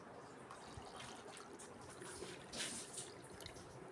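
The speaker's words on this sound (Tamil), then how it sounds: "தண்ணி ஃபில் பண்ணியாச்சு" Water trickles and splashes into the tank of an air cooler fan, a faint continuous pour with small bubbling spurts heard alone.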